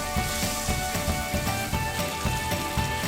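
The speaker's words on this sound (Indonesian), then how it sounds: "Kalau minyaknya sudah panas, boleh langsung dimasukkan bumbunya." Spice paste dropped into hot cooking oil in a wok, giving a dense, continuous sizzling hiss with crackling spatters, close and fairly loud, steady throughout with no voices.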